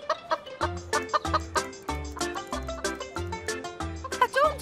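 Hens cluck repeatedly in short, irregular bursts, several birds close by, with a busy barnyard chatter and no talking.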